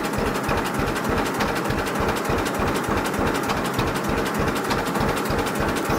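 A 1959 John Deere 630 tractor engine idles at roughly 350 RPM, a loud, even low putt-putt with a steady rhythmic chugging that continues unbroken and close by.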